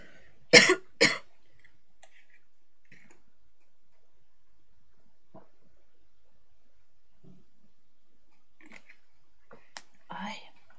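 A person coughs while playing a video game: two sharp, loud coughs in quick succession near the start, then a long quiet stretch with faint rustles before a softer burst near the end.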